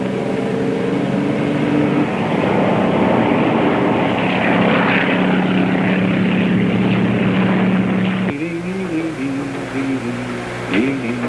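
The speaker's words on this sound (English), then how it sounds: "That helicopter up there is following us." A helicopter drones steadily overhead with a loud, continuous rotor and engine roar, and the pitch shifts slightly toward the end.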